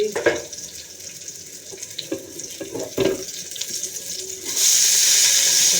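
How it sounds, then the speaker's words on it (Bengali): Water spinach greens tipped into a hot pan with green chillies start to fry, a steady broadband hiss rising sharply and staying loud after some clattering and stirring, with no talking. "এবার শাকগুলো ঢেলে দিচ্ছি।"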